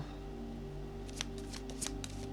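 Tarot cards being shuffled close up, a quiet riffling patter with a few sharper snaps of cards near the end over a steady low hum.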